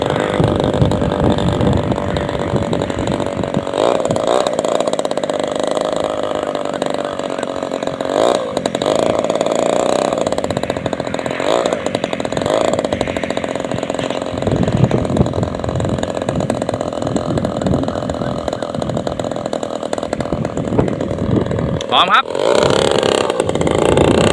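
A radio-controlled Beaver model airplane with a 40 cc agricultural engine and fertilizer sprayer, 2850 mm wingspan, revving loudly. It makes a steady, buzzing drone that swells and dips, while voices shout excitedly over it.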